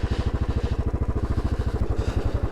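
A Royal Enfield 500 Trials motorcycle ridden in first gear on an off-road green lane thumps with a steady, rapid single-cylinder beat, close and loud throughout.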